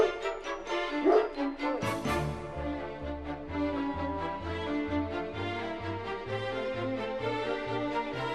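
A Great Dane at a dog runway event gives a run of repeated, evenly spaced yelping barks and whimpers, close and fairly loud, with no talk over it.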